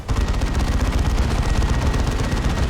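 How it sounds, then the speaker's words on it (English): Space Marine assault cannon in Dawn of War 2, a battle between Space Marines and Orks, fires a dense, sustained rattle of rapid shots along with heavy battle noise throughout. "There's that assault cannon rat-a-tatting on the Mekboy."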